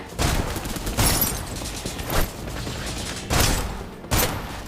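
Pistol gunfire in the Snowbreak video game, several sharp shots in irregular bursts over a steady background of game sound, fairly close and loud, with no talking.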